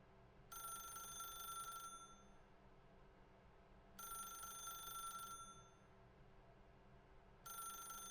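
A telephone rings in The Stanley Parable with three bursts of an electronic bell trill, each lasting over a second, separated by pauses over a low steady hum, faint and alone.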